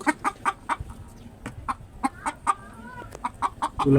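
Frightened chickens in a rooftop shed cluck repeatedly in quick, agitated bursts, close and fairly loud, with squawks overlapping throughout.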